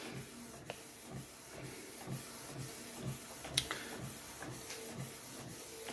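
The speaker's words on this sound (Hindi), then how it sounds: "सो मैंने प्रिंट कमांड दे दिया है दोस्तों, तो देखिए इसका फोटो कैसे आता है। फोटो इसने पुल कर लिया है, पेपर उसने पुल कर लिया है" Canon Pixma G3000 inkjet printer feeding a sheet and printing a photo: a steady mechanical whir with evenly spaced rhythmic clicks and a sharper knock near the middle, close by and moderately quiet.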